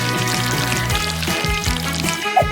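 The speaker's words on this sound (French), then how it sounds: "J'arrose le tout de sirop de fraise." Strawberry syrup is poured over soft and rainbow marshmallows on a brioche bun, a steady close trickle running under a sustained musical background.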